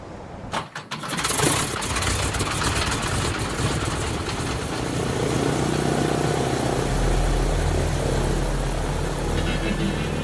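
An old radial-engine plane takes off in the Chitina valley of southeast Alaska, coughing to life after a brief sputter, then a loud, steady, throbbing engine roar that deepens as power builds.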